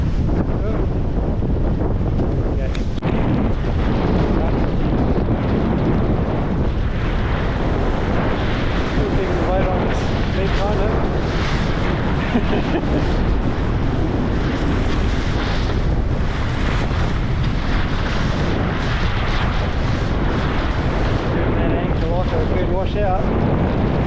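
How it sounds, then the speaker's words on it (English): Strong wind of twenty-plus knots roars across the microphone aboard a sailboat between Marsden Point and Kawau Island, a constant loud buffeting mixed with the wash of waves and spray. "This amount of wind still blowing over just over 20, I'd say."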